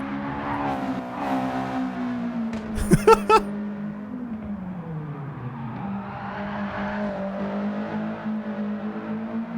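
A car in Gran Turismo 7 drifting through corners, its engine note rising and falling steadily, with a brief cluster of sharp clicks or shifts near the start, moderately loud and with no talking.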